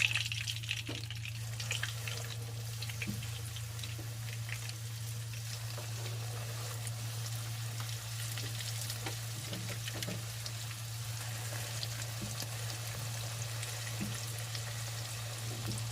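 Pork chops frying in hot oil, a steady crackling sizzle with scattered pops, close and constant under a low background hum.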